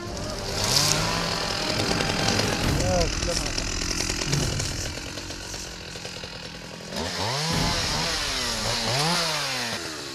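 A chainsaw cuts tree branches at a logging site during forest-fire camera installation work, its engine revving and dropping in loud close bursts, with people talking over it.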